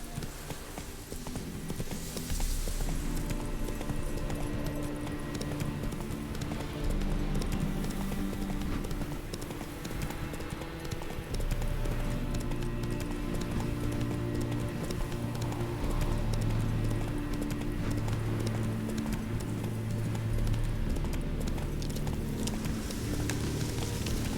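A horse gallops in The Witcher 3 video game, rapid steady clip-clop hoofbeats running throughout under a continuous layer of game music.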